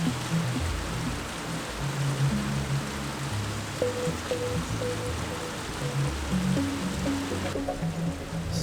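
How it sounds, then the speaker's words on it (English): A waterfall pours into a mountain stream, a steady broadband rush of falling water that stays constant and fairly near, with faint brief tones over it. "the sound of falling water grew louder"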